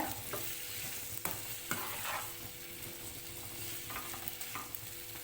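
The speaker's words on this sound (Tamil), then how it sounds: "சேர்த்துட்டு அதையும் நல்லா கலந்துக்கோங்க மசாலாலாம் இது கூட நல்லா மிக்ஸ் ஆகிற மாதிரி கலந்து விடுங்க" Boiled raw banana is stirred into masala in a pan, with repeated close spatula scrapes and taps over a soft, steady sizzle and no one speaking.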